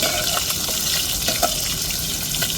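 Fish frying in a pan over a stove, with a steady crackling sizzle and a few soft pops and spatters, close and continuous with no voices.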